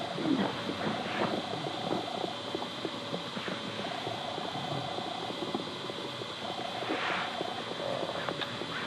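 Birds sing and coo outdoors at a woodland shrine, a steady wash of chirps and calls at moderate distance with a constant low hum underneath, no voices present.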